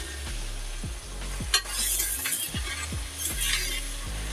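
Sweet potato leaves being stir-fried with garlic, shallots and pork crackling in a wok, a steady close sizzle with repeated scraping and tossing strokes from the spatula and occasional light clinks.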